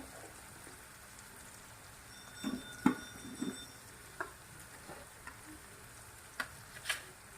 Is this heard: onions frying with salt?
yes